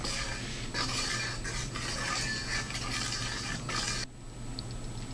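Vanilla extract being stirred into an ice cream mixture gives a busy, close clatter of scraping and clinking over a steady low hum, then quietens abruptly near the end.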